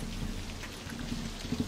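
Steady rain falls through a scene from Fear The Walking Dead as a dense, even hiss with low rumbling beneath it, heard on its own without speech.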